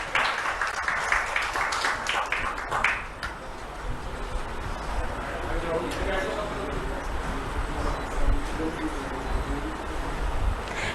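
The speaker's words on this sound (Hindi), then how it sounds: "जोरदार तालियों से राज का मंच पर स्वागत करें।" An audience at a Dehradun ceremony during President Droupadi Murmu's Uttarakhand visit claws out brisk applause for a student receiving low-vision glasses, strongest in the first few seconds, then fading under an announcer talking over a public address.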